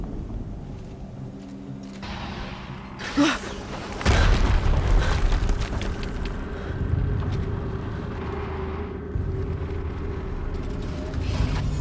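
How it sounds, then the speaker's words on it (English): Explosions in the video game Horizon Zero Dawn: a sharp, loud boom hits with a heavy low-frequency rumble that lingers, preceded by a smaller thud, all over a steady bed of ambient in-game noise. "Another explosion."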